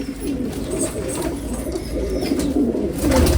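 Colony of loft pigeons, including Ferozpuri and golden birds, cooing together in a dense, unbroken low chorus that swells slightly toward the end, close and fairly loud.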